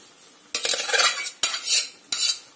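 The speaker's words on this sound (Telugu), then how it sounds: "అన్నానికి మొత్తం ఈ మసాలా పట్టేటట్టుగా నెమ్మది కలుపుకోండి." Rice being stirred by hand into spinach masala curry in a pan, heard as three bursts of close scraping and mixing with short pauses in between, with no talking.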